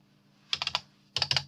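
Keys on a computer keyboard are pressed in two quick clusters of sharp, close clicks during 3D modelling of a chest of drawers, with a quiet hum between them.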